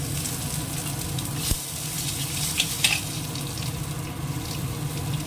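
Dry red chili and radhuni spice sizzling in hot oil during tempering in a home kitchen, a steady soft crackle and hiss running throughout with a couple of faint clinks of a utensil.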